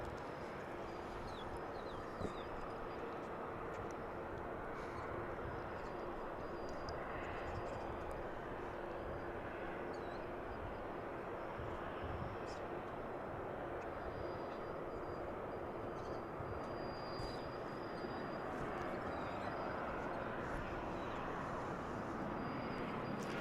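An airliner arriving at DFW International Airport on a flight from Querétaro, Mexico, gives a steady, moderate engine rumble and hiss that holds without a break, with faint scattered clicks and no voices.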